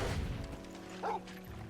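A dog barks once in Final Fantasy XVI, a short, fairly close yelp standing out over a steady game backdrop.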